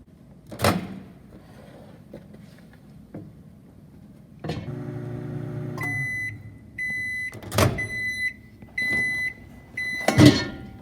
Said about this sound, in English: I think it's easier just to put it in the microwave for a minute